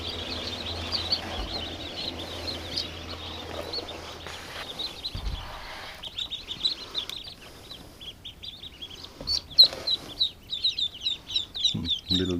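Newly hatched ducklings peeping, a steady stream of high, rapid cheeps. The peeping grows busier and louder toward the end, with some faint background noise.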